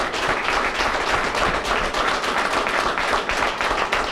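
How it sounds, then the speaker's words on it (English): A room of people gives a round of applause for Mayor Fenty inside the DC Jail, the clapping dense and steady at a moderate level for the whole stretch. "can we give Mayor Fenty a round of applause?"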